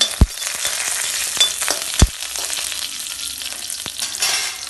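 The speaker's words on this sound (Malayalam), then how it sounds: "നമ്മൾ കേട് ഒഴിക്കുകയാണ്." Curd is poured into a hot tempering of dried red chillies and crushed ginger for curd rice, giving a steady soft sizzle with a few sharp clinks of a utensil against the pan.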